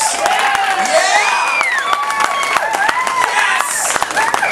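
A comedy club audience claps and cheers for itself, with a dense wash of applause, whoops and crowd voices sustained throughout and fairly loud.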